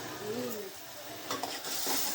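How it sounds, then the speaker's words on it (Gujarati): Tempering for kadhi sizzles in a pan in short, bright bursts over a low background hiss, with a faint tonal sound near the start. "કઢીનો વઘાર કરી દીધો"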